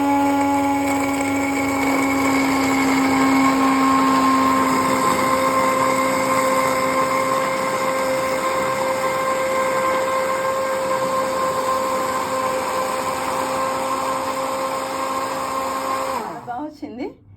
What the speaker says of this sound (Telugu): ఇప్పుడు దీన్ని హ్యాండ్ బ్లెండర్ పెట్టి బ్లెండ్ చేసేద్దామని ఐడియా.